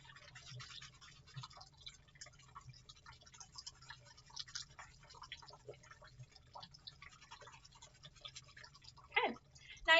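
Quiet, steady scrubbing of a brush over dentures, soft bristle strokes running through the whole stretch, with a few louder rinse-like bursts near the end.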